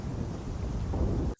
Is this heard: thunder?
yes